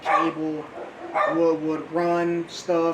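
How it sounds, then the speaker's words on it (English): A pet dog barks indoors in several loud, sharp bursts spread across a few seconds, overlapping with someone talking. "That's our dog."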